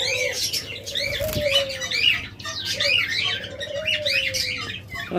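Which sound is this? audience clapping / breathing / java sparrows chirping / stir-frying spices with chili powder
java sparrows chirping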